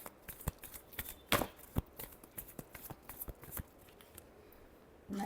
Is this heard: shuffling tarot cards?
yes